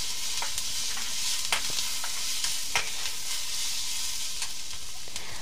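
Chow mein fries in a pan as chili sauce is stirred through it, a dense, steady sizzle with occasional quick utensil scrapes and taps close by.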